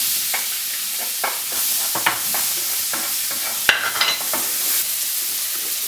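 Onions frying in melted butter for a green bean casserole, a constant close sizzle with intermittent clicks and scrapes of a utensil stirring the pan.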